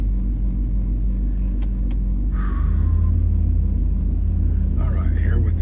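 Deep, steady low rumble of a car engine idling close by inside the vehicle, with small clicks and a brief higher squeak near the end.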